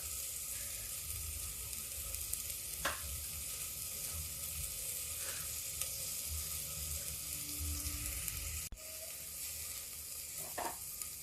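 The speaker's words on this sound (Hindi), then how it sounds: "अब ये देखिए, ये भी टमाटर भी थोड़ा सा भून लेते हैं और डाल देते हैं नमक।" Tomatoes frying with salt in a pan give a steady, fairly quiet sizzle that runs throughout, with a few brief clinks and scrapes of stirring.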